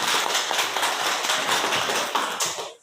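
A classroom of students claps together in continuous, brisk, dense applause that stays loud and close, then cuts off abruptly.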